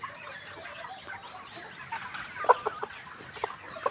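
Several chickens with watery, diseased eyes cluck softly nearby, with short scattered clucks and calls over a quiet background.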